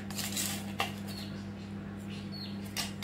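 A spoon stirs powdered sugar into milk for a strawberry cake, making light metallic clinks and scrapes against the bowl, with two brief sharper taps, close and quiet.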